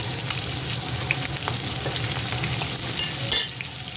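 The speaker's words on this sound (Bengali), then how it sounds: "ট্যাংরা মাছগুলো আমি ভেজে নিচ্ছি।" Tengra fish, rubbed with salt and turmeric and with roe inside, fry in hot oil in a pan. A steady close sizzle with a few crackles and light stirring, and no voices.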